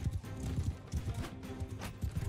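Horse hooves clopping in the Mount & Blade II: Bannerlord game, played as the Khuzait, a steady rhythm of thudding low hoofbeats running through the whole stretch at moderate level, with no talk.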